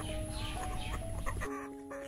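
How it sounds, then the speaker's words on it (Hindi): Rhode Island Red hens cluck in a poultry flock, a busy cluster of calls layered over a steady hum of farm background noise, with a sustained tone running underneath. "आप लोग देख सकते हैं ये आरआर मुर्गी है।"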